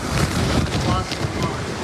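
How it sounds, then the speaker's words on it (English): A powerful storm gust roars across the microphone, a loud, broadband rush of wind with churning water beneath it, steady and buffeting throughout while someone speaks over it. "That is by far the strongest gust we've seen here."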